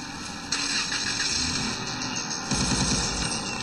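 A gun mounted on a buggy in the video game SiN fires continuously, a dense rapid rattle of shots layered over vehicle rumble that jumps louder around halfway through.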